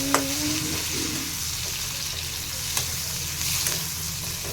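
Onions frying in leftover oil from frying fish, a steady close sizzle with a few brief stirring clicks, no voices.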